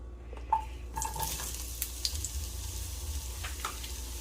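Potatoes sizzle and crackle as they hit hot vegetable oil in a pan, with a few clinks of a utensil stirring at the start and a steady frying hiss that continues close up.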